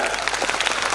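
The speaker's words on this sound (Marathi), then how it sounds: "तुमच्या आईवडिलांसाठी टाळ्या वाजवा" Audience applause at a national-level abacus competition award function, steady dense clapping throughout, loud and sustained with no talk.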